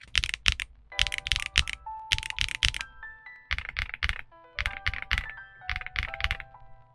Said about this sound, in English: Definitely we can hear that one's deeper. This one, I would say, is more of a clacky, while this one is definitely a thocky one.